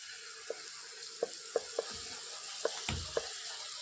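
Spice paste frying in a pan for duck curry over a wood fire, a steady close sizzle with a few sharp pops and spatters scattered through it.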